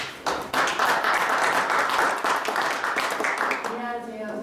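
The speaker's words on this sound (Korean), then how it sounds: "큰 박수로 환영해 주셨으면 감사하겠습니다." Conference attendees at a session on inter-Korean environmental cooperation in border areas welcome a presenter with loud, dense applause that starts abruptly, holds for several seconds, then tapers off as a voice begins.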